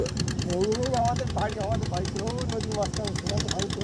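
A motor boat on a river in a Sundarbans village during the monsoon chugs past with a steady, rapid engine putter, heard under people talking.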